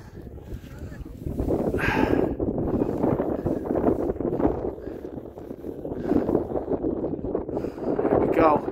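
Strong wind buffets the microphone in rough, uneven gusts, loud and close, roaring throughout with rising and falling surges.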